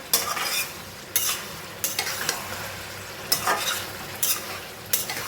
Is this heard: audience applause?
no